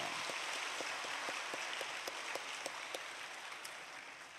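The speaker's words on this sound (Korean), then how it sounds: "우리 어린아이들을 위해서 우리 박수 한번 치겠습니다." A church congregation applauds to welcome children at an early-morning Holy Week service, a soft, diffuse patter of many hands, faint and distant, with a few sharper individual claps standing out.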